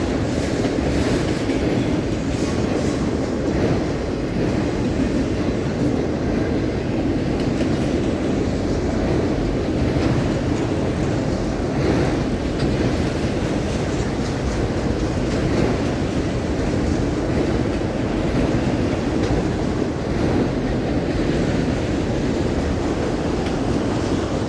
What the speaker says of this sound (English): CSX freight train crossing the Doctors Lake Bridge